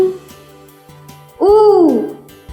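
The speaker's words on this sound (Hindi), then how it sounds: "उल्लू।" An owl call used as an example sound for the Hindi letter for owl: a single loud, rising-then-falling hoot lasting about half a second, heard alone after a quiet, faintly humming lead-in.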